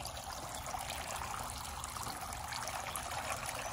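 A garden water fountain runs outdoors, giving a steady close trickle and splash of falling water that holds even and continuous throughout with no pauses.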